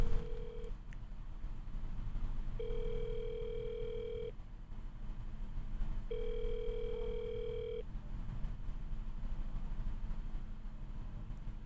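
Repeating ringback tone heard while a call is being placed, two long steady tone bursts separated by pauses over a low background hum, moderately loud and with no talk.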